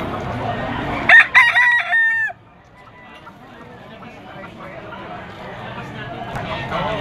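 Roosters at a fighting-cock market crow loudly and close by, one clear crow rising over background chatter and bustle, while someone talks over the scene.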